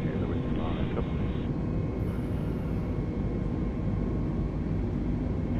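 Steady, heavy rumble of A320neo jet engines on the takeoff roll in a flight simulator, constant and loud throughout, with a faint radio voice briefly over it at the start.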